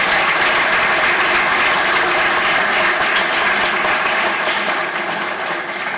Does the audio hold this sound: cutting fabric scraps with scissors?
no